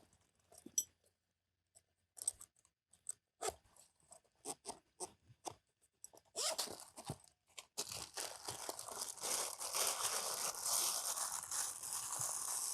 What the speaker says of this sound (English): I've got it in a plastic bag